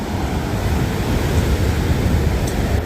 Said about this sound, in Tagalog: Madami na naman ng alon